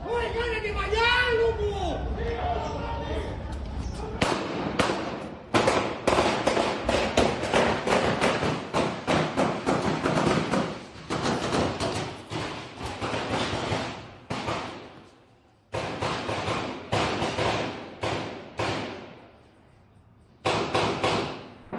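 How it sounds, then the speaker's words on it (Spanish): A long, rapid volley of gunshots in an exchange of fire lasting nearly 20 seconds: dozens of sharp cracks in dense, irregular bursts with brief gaps. A voice is heard briefly just before the firing starts. "son casi 20 segundos de un intercambio de disparos que aterrorizó a todos"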